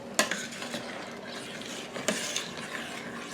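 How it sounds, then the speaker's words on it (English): A spoon stirs a berry dumpling mixture in a pot, with a couple of sharp metallic knocks against the rim over a soft bubbling, wet churn; close and moderately loud, no talking. "I'm going to stir this because I certainly don't want that to stick or burn"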